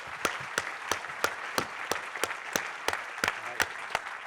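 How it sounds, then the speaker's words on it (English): An audience claps together in a steady rhythm of about three claps per second, moderately loud, lasting the whole stretch with no talk over it. "So a big round of applause for those people who organized."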